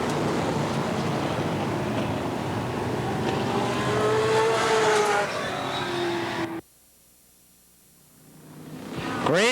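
Race cars roar around the oval at Eugene Speedway, a loud continuous engine drone with rising and falling pitch and a live announcer talking over it, then the sound drops out abruptly and creeps back up near the end.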